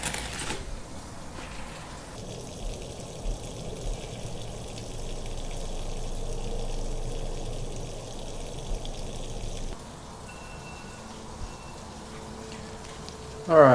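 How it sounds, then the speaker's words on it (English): Water rushes at full flow through a Rinnai RSC160iN tankless water heater being flushed, a steady low gushing hiss with faint patter that runs on for several seconds, then eases slightly. "You can hear water pouring through it."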